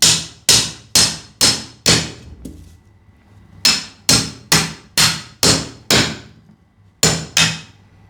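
Hammer repeatedly striking meat and bone during butchering, sharp loud blows in quick runs of four or five, with brief pauses between groups, close and crisp.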